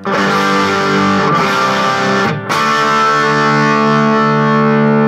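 Electric guitar with a gained-up, Strat-like tone played through distortion, ringing sustained chords with a couple of brief breaks between strums, loud and close with no talking.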